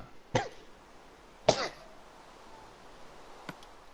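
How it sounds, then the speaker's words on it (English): Coughing from a person, faint and close, about two sharp coughs with a small click afterward and quiet background between them. "Coughing like a bitch."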